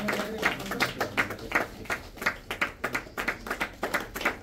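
Audience applause at a Nepali scholarship and certificate award ceremony: a steady run of many hands clapping together, fairly close and even in loudness, with no talk over it.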